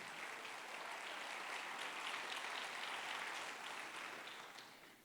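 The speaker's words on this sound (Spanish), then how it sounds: "Dale un fuerte aplauso al Señor" A church congregation claps steadily in a soft, even wash of applause that runs the whole time and tapers slightly at the end.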